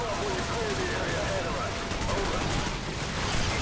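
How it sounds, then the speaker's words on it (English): Gunfire rattles in Call of Duty 4: Modern Warfare, dense and continuous, as bursts from several directions pile into a loud, unbroken barrage with faint shouting mixed in. "Now I'm getting shot from all sides."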